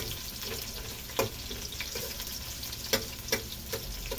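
A dish frying in a pan, with a steady loud sizzle throughout and periodic scraping clicks as a utensil stirs it, a few knocks standing out above the hiss.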